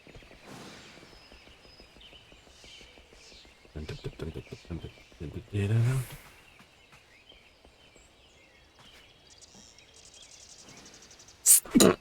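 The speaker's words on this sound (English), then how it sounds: "Oh, that was a horrible sneeze." One sharp sneeze bursts out midway through quiet background sound during an evening of Final Fantasy XIV Online play, followed near the end by a brief loud noise.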